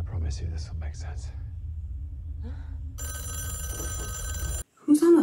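A telephone rings in a TV episode, bursts of electronic ringing heard over voices and a low background rumble, followed by a brief loud clatter at the end.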